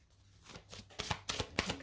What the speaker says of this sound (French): Et on va prendre une carte de chaque.